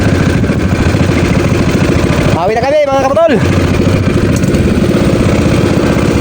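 A steady, loud engine drone chugs throughout from a small boat motor running close by on a river, with someone speaking briefly over it midway.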